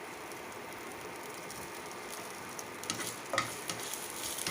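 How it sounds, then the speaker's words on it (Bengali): A small amount of mustard seeds heat in oil, giving a faint, steady sizzle that breaks into a few sharp little pops and crackles toward the end. "সর্ষেটা ফুটে আসলে আমি এর মধ্যে দিয়ে দেব আদা কুচি।"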